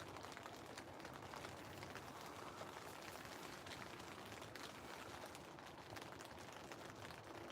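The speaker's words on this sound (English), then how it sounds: "everyone wants to listen to the sound of the rain." Steady rain falls on a campsite, a soft, continuous hiss of drops pattering on nearby surfaces, faint and even throughout with no voices.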